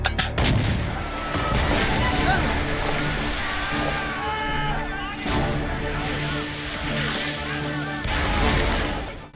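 A WW1 battle scene from a movie where a platoon fires five rounds rapid, heard as loud overlapping gunfire blasts and booming reports over a dense rumbling din, with shouted voices mixed in.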